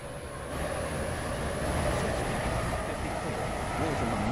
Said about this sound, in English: This train is now approaching Faraday Road.